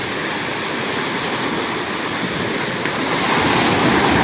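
Sea water rushing in at a coastal embankment, a loud, continuous churning roar of surging water that swells slightly toward the end, with no voices.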